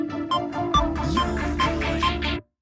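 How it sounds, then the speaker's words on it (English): An equalizer filter with resonance sweeps upward across a loud metal track, a bright, whistling peak rising through the dense band mix for a couple of seconds before it cuts off. "so you can kind of hear the equalizer going up"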